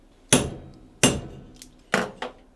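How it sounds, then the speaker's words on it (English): A hammer strikes a metal punch resting on a harmonica reed rivet head: four sharp, ringing metallic hits, loud and close, spaced unevenly with fast decays and no speech. "placing the punch on top of the rivet head, and then just hit it firmly with the hammer"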